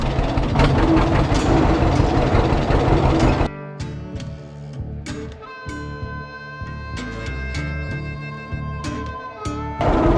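Engine on a homemade hydraulic log splitter with a spinning flywheel, running loud and close with a steady low rumble and rattling mechanical clatter, no talk.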